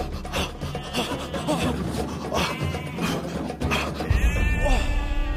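A lamb bleats in quavering cries toward the end, over a busy rasping, scraping background with broadband noise throughout.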